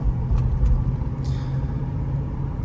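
A 1996 Lincoln Town Car cruises with a low, steady engine and road rumble from inside the cabin, plus a few faint clicks and a brief light rattle.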